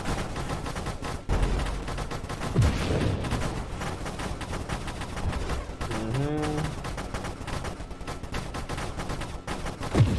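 A railgun and barrage minigun build in Nova Drift fires a relentless, rapid stream of shots, a dense crackling volley that runs steadily throughout with occasional heavier thumps.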